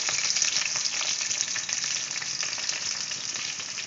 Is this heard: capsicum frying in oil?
yes